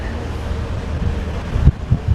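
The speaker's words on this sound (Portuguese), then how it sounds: "Que vento maravilhoso." Wind blowing steadily across the deck of a riverboat on the Amazon, a continuous broadband rush with microphone buffeting and low rumbling gusts toward the end, no speech.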